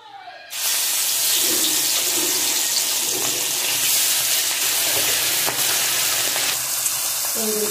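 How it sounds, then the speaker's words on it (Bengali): Small bhola fish frying in hot oil, a loud steady sizzle that starts abruptly and continues with faint scraping of a spatula and occasional crackles. "মাছ ভেজে নেব।"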